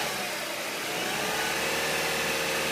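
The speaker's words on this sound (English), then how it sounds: "Can you rev the car, please?" A car engine revved and held at raised speed during an oxygen sensor test, a close mid-pitched drone that climbs and settles into a steady sustained rev, with no talk over it.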